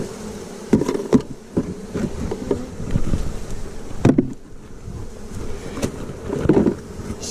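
Honeybees swarming around a packed hive being opened before winter, a continuous low buzzing close by, broken by occasional knocks and clunks of hive equipment.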